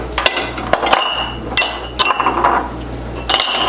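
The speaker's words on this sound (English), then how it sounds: "now we're just going to continue stirring this until it comes back up to a boil" Plum jelly being stirred in a pot as it comes back to a boil, with sharp utensil clinks against the pot wall at irregular intervals over a steady low hum, close and fairly loud.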